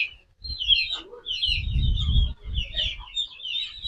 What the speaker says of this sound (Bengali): এই দেখেন এখানে প্রচুর মুরগি